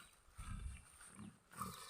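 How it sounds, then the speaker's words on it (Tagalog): Pigs on a farm grunt softly in a few low, rough bursts, quiet and at a short distance. "May mga baboy dito guys o."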